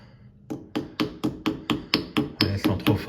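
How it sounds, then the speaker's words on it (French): A small hammer taps a wedge against a wall fixing while a screen bracket is mounted. About eleven sharp, evenly spaced knocks come close to the mic, and their tone shifts a little toward the end. "Utiliser une petite cale et un petit marteau. On peut le faire avec le marteau tranquillement."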